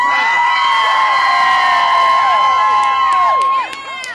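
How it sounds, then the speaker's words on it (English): Crowd at a Stop the War on Women protest in Arkansas cheering and shouting loudly and continuously, with high whoops and shrill cries rising over a dense roar that drops off near the end. "I'd like to hear a shout out from the people that came down from Fayetteville today."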